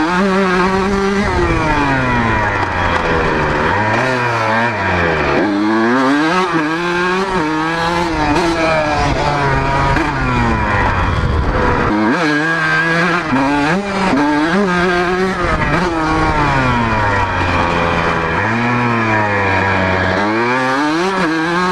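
Two-stroke motorcycle engine revving hard while riding, loud and continuous with rising and falling pitch sweeps as the throttle is twisted, alone without talk.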